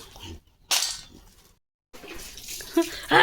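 A dog plays in water, splashing and sloshing in bursts separated by short silences, close by, with a brief voice near the end.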